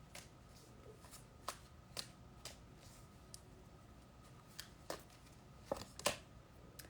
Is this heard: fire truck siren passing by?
no